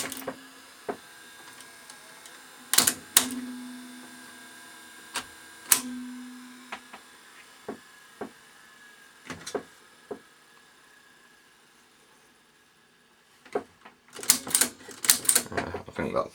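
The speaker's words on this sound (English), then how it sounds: "but it is at least loading now" A Ferguson 3V22 (JVC HR3330) top-loading VHS recorder loading a tape: close, sharp mechanical clicks and clunks spread irregularly over the clip, with brief motor whirs and a faint background hum, then a cluster of rattling clicks near the end.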